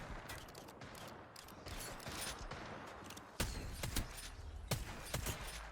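Bursts of gunfire in a competitive battle-royale shooter match, several sharp reports ringing out in quick succession over a steady bed of game ambience, growing louder toward the end.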